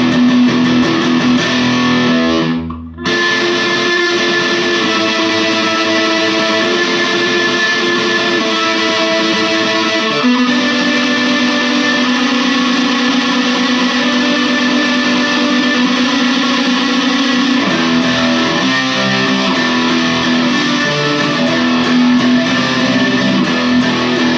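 Heavily distorted electric guitar through an MXR Prime Distortion pedal, tone maxed, drones loudly and continuously in an HM2-like chainsaw tone, with a brief cutoff early on and a shift in tone partway through.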